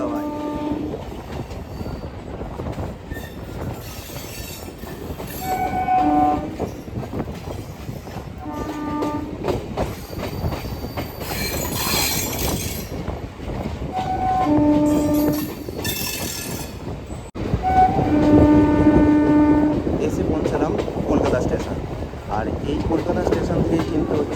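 A train on the Kolkata Circular Rail along the Ganges runs with continuous wheel clatter and rumble, horn blasts sounding repeatedly over it, with background voices underneath.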